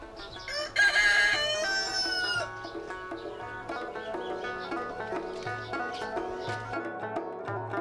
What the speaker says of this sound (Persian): خروسک